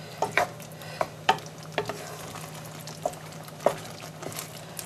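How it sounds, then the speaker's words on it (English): A pan of Spanish rice with prawns and chorizo bubbles and simmers with a low steady hiss. Sharp spoon clinks and scrapes of stirring repeat about every second, close and fairly loud, with no voices. "Just keep it bubbling and simmering through."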